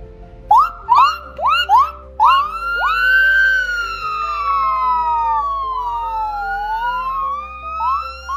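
Voices imitate sirens, opening with a few quick rising yelps and then long wailing swoops that rise and fall, loud and close.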